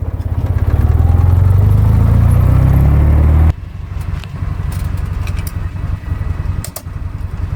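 A 1969 Series II Land Rover engine idles steadily up close in the cold, a loud low rumble that drops abruptly to a quieter, even idle partway through.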